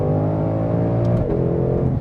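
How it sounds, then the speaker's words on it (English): A 2020 Shelby GT500 with a seven-speed dual-clutch gearbox pulling hard under full throttle, a loud steady engine drone heard from inside the car, with a quick upshift around the middle that briefly drops the pitch before it climbs again. "you hear that like punch as it gives you that next gear"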